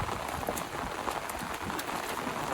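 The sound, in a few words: heavy rain during net fishing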